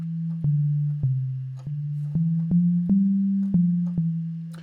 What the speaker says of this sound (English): So if I play it, we can see we have a sine wave.